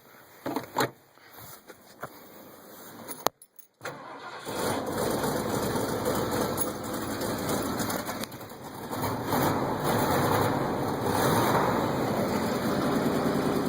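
A 1977 Ford F150 pickup with automatic transmission and four-wheel drive cranks and starts after a few brief clicks and a short silence, then settles into a steady, moderately loud idle with a faint bird in the background.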